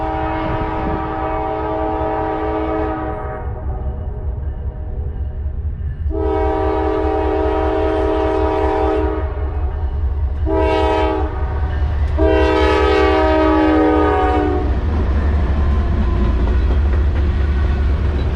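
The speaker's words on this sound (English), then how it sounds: "So this first train up is NS189." Norfolk Southern NS189 general manifest freight train on the CNO&TP line at Rockwood, Tennessee, sounds its horn loudly in the crossing pattern of long, long, short, long blasts over a constant low rumble of rolling cars.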